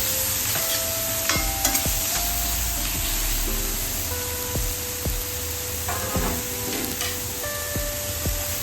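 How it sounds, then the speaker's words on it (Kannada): Tomato added to a hot pan of golden-browned onion for paneer bhurji, sizzling steadily while a utensil scrapes and clinks against the pan in repeated strokes; close and continuous, no voices. "ಟೊಮೊಟೊ ಆ್ಯಡ್ ಮಾಡ್ಕೊಳ್ತಾ ಇದ್ದೀನಿ. ಇನ್ನೊಂದು 30 ಸೆಕೆಂಡ್ ಫ್ರೈ ಆಗಿ ಬಿಡಬೇಕು."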